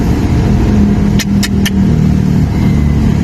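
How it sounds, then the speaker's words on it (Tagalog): Dense evening road traffic rumbles steadily with idling and creeping car engines, a continuous loud drone with a few brief high squeaks partway through. "Grabe, sobrang traffic na naman mga kagango."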